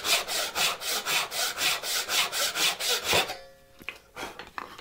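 A hand saw cuts wood for a dovetail half lap joint in fast, even back-and-forth strokes, close and loud, then stops as the piece breaks free, leaving a few light knocks.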